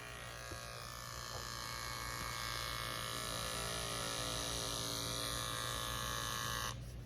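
Oster Fast Feed hair clippers running on a low battery, a steady close electric buzz with a constant hum that holds evenly for several seconds before changing near the end.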